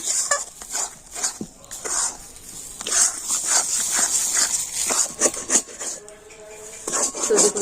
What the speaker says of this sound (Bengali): আর এবার এটা খুব ভালো করে নাড়াচাড়া করে নেব